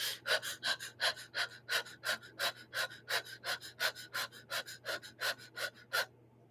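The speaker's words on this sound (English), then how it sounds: "Fire breath. That breath right there, this one." Rapid rhythmic breath-of-fire breathing exercise, about two dozen sharp, evenly spaced forceful exhales in steady succession, close and clear over a low constant hum, with no talking.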